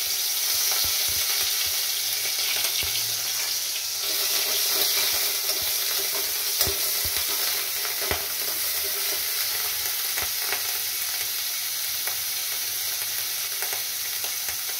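Onion paste fries and sizzles in a pan while being stirred, a steady close crackle with scraping strokes running throughout, no voices.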